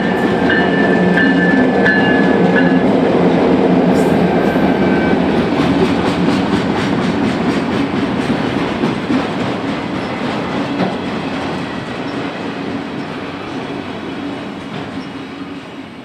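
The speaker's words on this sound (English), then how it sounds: "A yard job that originated at the railroad's Chicago Heights auto ramp 2 miles south of here is passing the MASYC behind two more EMDs" Loaded auto-rack freight train rolling past behind two EMD locomotives, a GP38N and a GP40N, a loud, steady rumble with rhythmic clickety-clack of wheels over rail joints that fades slightly toward the end.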